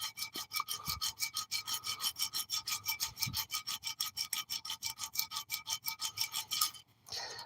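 Rhythmic back-and-forth rasping of material being ground by hand, steady strokes roughly every fifth of a second, close and fairly quiet, alone with no talk.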